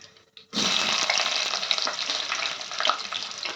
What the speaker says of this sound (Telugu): ఉల్లిపాయలు, పచ్చిమిర్చి వేసి కొంచెం వేగిపోయినాక వేగనివ్వాలి.